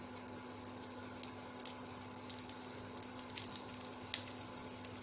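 Chopped garlic, eight to ten cloves, sizzles steadily in hot oil with cumin seeds, a soft continuous frying hiss with faint crackles and a few small pops, nobody talking.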